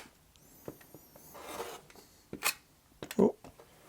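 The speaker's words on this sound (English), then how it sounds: "I'm just going to cut the selvage off" The selvage is cut off a length of quilting fabric, a few short rasping cutting strokes at close range, separated by quiet pauses.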